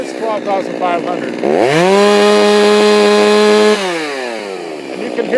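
A Stihl MS390 chainsaw fitted with a HiPa carburetor runs close and loud, idling briefly, then revving up to wide-open throttle and holding a steady high whine before dropping back down.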